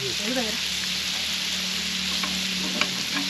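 Chicken or fish frying in plenty of oil outdoors on a farm gives a dense, continuous sizzle with a brief faint voice near the start.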